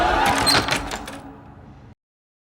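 A door is opened in a narrated story, with a short creaking, rattling burst at close range that fades out within two seconds, no voices over it.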